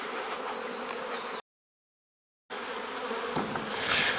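Dense, loud buzzing of many honeybees swarming nearby during the combining of two hives, interrupted by a brief total silence before the droning hum resumes.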